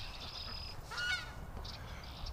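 Ducks give a few brief, honking quacks, with a louder cluster in the middle, against a low outdoor rumble.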